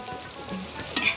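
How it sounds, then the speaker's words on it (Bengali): Pabda fish frying in a pan, a brief burst of close oily sizzling with a light scrape of stirring near the end. "এদিক দিয়ে আমার পাবদা মাছ ভাজা হয়ে গেছে,"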